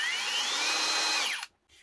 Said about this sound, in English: Nice wee drill. Small, compact.